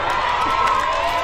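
A mosque congregation at a lively Islamic lecture breaks into a brief burst of crowd noise, a short, dense wash of clapping and cheering voices.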